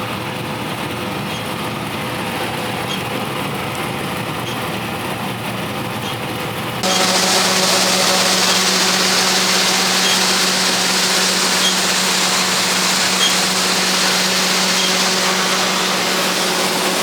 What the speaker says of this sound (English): That is an awesome tractor right there.